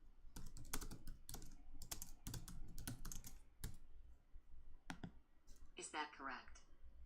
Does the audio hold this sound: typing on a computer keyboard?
yes